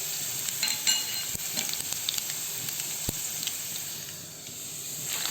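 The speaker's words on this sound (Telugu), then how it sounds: "ఇది కొద్దిగా ఒక నిమిషము 2 నిమిషాలు సిమ్ములో పెట్టి వేయించాలి" Coriander seeds, cumin and fenugreek fry in a little oil for gongura pachadi, with a steady close sizzle and hiss under occasional stirring scrapes and one sharp clink of utensil on pan.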